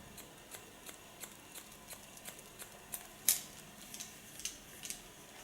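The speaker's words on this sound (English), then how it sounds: "Point cut on the short hair." Scissors point-cut short hair for an ultra-short pixie style, making faint, crisp snips at an even, quick rhythm. A slightly louder snip stands out near the end against quiet room tone.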